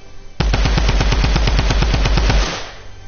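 A single loud burst of rapid automatic fire rings out in a video game, about a dozen evenly spaced shots over two seconds, close and punchy, then trailing off.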